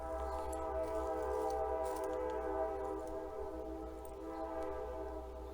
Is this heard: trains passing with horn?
yes